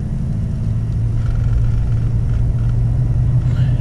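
A stock diesel truck accelerates moderately at 25% throttle, producing a loud, close, steady deep engine rumble with no speech.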